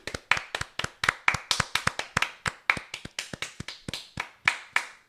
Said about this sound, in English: Can I get a little round of applause for mothers?